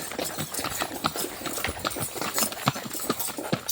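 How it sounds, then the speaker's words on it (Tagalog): Horse hooves clip-clopping steadily on a road while the horse hauls coconuts in Tayabas, a brisk rhythmic patter at moderate distance with faint engine noise beneath. "Malakas naman kung kabayo talaga dito sa amin."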